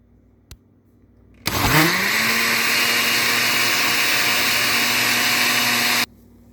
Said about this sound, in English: into the blender and blend as well.